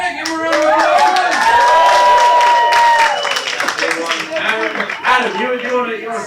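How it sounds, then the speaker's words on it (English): Audience at a comedy gong show night clapping and applauding for a performer, a burst of loud, close claps with voices and cheering mixed in. "Give him a round of applause."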